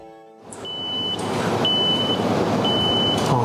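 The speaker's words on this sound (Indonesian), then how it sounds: "Lepas tu dia ada function find my earbuds" Edifier wireless earbuds sound their find-my-earbuds locator alert: three short, shrill electronic beeps repeat at even intervals over a steady background rumble, with no speech.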